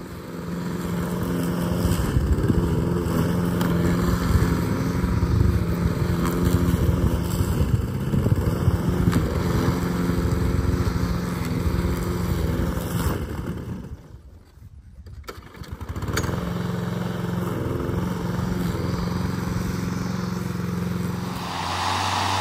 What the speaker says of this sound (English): I always have to use the push mower or a string trimmer to mow it like you see here.